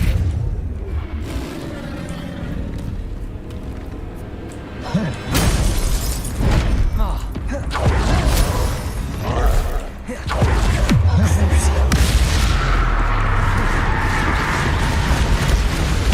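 Spell effects from the Hogwarts Legacy video game: bursts, booms and magical whooshes firing in quick succession amid combat noise, with a voice casting the spells between them.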